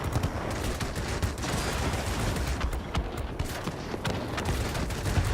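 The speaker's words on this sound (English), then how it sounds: "Cannons do overheat, so shorter bursts." Aircraft cannons on a Tier VIII British Supermarine Seafang F.32 in World of Warplanes, firing in dense rapid bursts with staccato cracks over a continuous engine roar, loud and close.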